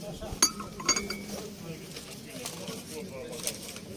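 Light clinks of a porcelain tea set tap together a few times, small bright chimes over a soft room background with faint voices, at a flea market.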